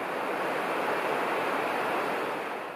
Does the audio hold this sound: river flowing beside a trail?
yes